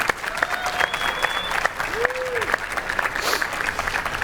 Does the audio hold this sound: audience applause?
yes